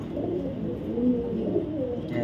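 A light-coloured male sobji racer pigeon from BRPFC 2024 gives a low, throaty, continuous cooing murmur, close and moderately loud, with no speech.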